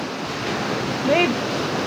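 Surf rolling onto a white sand beach at high tide, a steady broadband wash with wind noise, with a brief faint chirp or voice-like sound partway through.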